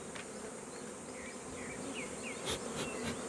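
Honeybees at a hive being fed a pollen patty make a steady close buzz, with individual bees droning past now and then and a few small knocks.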